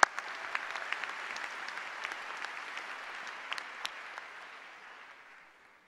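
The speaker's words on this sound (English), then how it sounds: "Let's give them a big round of applause." Audience applause at a graduation ceremony, a steady patter of many hands clapping at moderate distance, with a few sharper individual claps, fading out toward the end.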